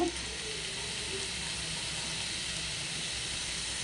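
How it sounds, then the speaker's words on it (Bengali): Onions fry in a pan with a soft, steady sizzle and hiss that stays faint and even throughout, with no talking. "পেঁয়াজটাকে একটু লাল লাল করে ভেজে নেব"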